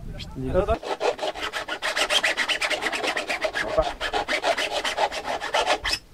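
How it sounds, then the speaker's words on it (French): A model rocket part is filed by hand with a metal file at a rocketry launch campaign, giving a rapid, steady run of close rasping strokes that lasts about five seconds. "Il faut le limer en fait."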